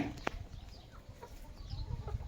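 Soft, scattered clucking from chickens nearby, quiet and intermittent over low background rumble, with no clear speech.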